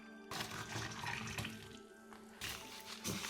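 Tap water running into a container to make about 1 liter of brine for salted duck and chicken eggs, a steady close pour with a brief lull midway before it surges again.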